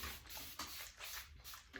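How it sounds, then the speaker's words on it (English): Several quick, faint spritzes come from a spray bottle of plain water misted onto short locs. The bursts are soft and evenly spaced, each a brief hiss, in a quiet room. "take my spray bottle, kind of spray it"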